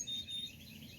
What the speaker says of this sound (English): I don't think I've ever heard these birds that noisy in a while.